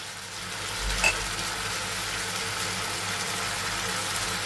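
Ginger, garlic and cumin paste sautés in a pan with watermelon rind, giving a steady soft sizzle and a brief stirring scrape near the start, faint and continuous, without speech.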